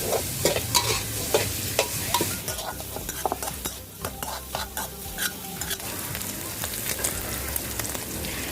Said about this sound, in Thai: เมื่อใส่ปลาหมึกกรอบลงไปแล้วนะคะก็ทำการคั่วต่ออีกค่ะ